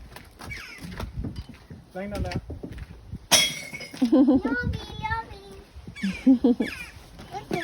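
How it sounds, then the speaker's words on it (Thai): Glass bottles breaking as children drop them into a recycling bin, a sharp crash and clinking shatter midway through, with children and an adult talking around it. "แล้วก็ได้ยินเสียงแก้วแตกนี่สนุกกันใหญ่เลยค่ะ"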